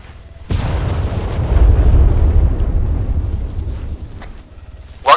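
Smoke grenades popping and hissing in the military shooter Arma 3: a sudden loud burst followed by a sustained, rumbling rush of gas that slowly tapers, with another sharp pop at the very end.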